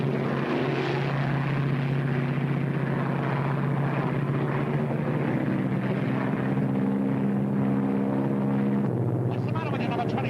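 A WWII-era propeller airplane drones steadily in flight, its engine tone loud and unbroken throughout, with voices faintly present underneath.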